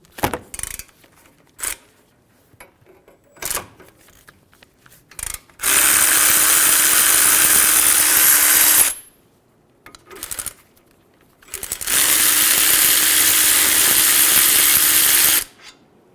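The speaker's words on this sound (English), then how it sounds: "Using a 17mm socket, remove the caliper bracket bolts." A ratchet with a 17mm socket works loose the front caliper bracket bolts on a 2003-2008 Honda Pilot, with scattered clicks and knocks, then two loud sustained bursts of a few seconds each, close up.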